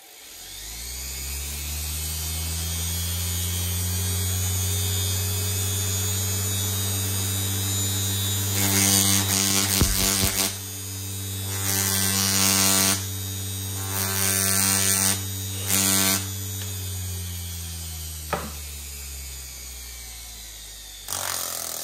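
A 220V electric motor converted to run from a 12V DC battery through a controller and throttle spins up with a steady, loud whirring hum, its speed rising and dipping as the throttle changes, with occasional light knocks.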